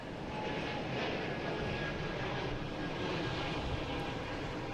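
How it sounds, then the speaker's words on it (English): A JetBlue airliner bound for Reagan airport passes with a sustained, even jet roar that swells slightly and stays constant, no speech on top. "And a JetBlue heading to Reagan."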